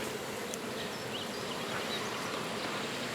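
Dense, continuous buzzing of many honey bees close by, a steady droning hum with no other sounds.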